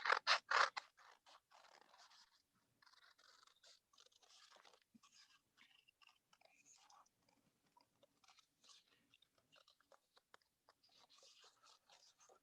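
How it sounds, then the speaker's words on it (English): Paper is snipped with scissors during a children's storytime craft, cutting two sheets at once. A few louder close cuts open it, then a quiet run of small, irregular snips and rustles follows, with no talk. "you want to start cutting them as well"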